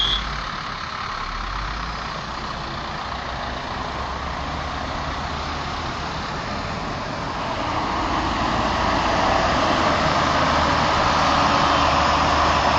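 Steady road traffic of cars and trucks on the potholed road to Godabandar, a continuous broadband rumble of passing engines and tyres that swells louder toward the end, with no talk over it.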